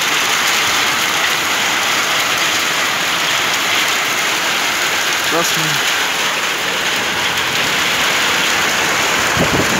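Heavy, steady rain pouring outdoors during a downpour, a dense constant hiss with a few brief knocks, heard under occasional talking.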